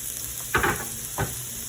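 Onions and celery hitting melted butter in a pan, a steady sizzle with two sharp bursts of hiss as the vegetables are pushed in, close and fairly quiet, no voices.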